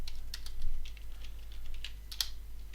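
Sparse, light computer keyboard clicks from someone typing while gaming, a few quick keystrokes spread out over a quiet background hum, with no talking.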